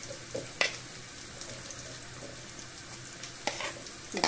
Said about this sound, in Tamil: இப்போ இது கொஞ்ச நேரம் வதங்கட்டும்.